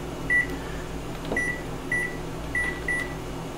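Microwave oven keypad giving a series of short electronic beeps, about five spaced presses, as a 15-minute timer is set while making kale chips; quiet room hum underneath.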